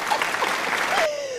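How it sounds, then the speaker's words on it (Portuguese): Applause from a small group fills about a second, a brief steady patter of hands, with a rising whistle-like tone near the end as it fades. "Salva de palmas aqui pro Nuno, gente, por favor."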